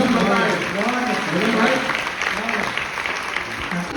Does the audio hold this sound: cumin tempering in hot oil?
no